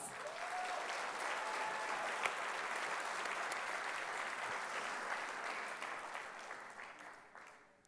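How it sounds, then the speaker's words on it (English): Audience applause at an inaugural celebration gala, a dense and steady wash of many hands clapping that holds for several seconds, then tapers off near the end, with a faint brief whistle early on. "Let's give them a huge round of applause."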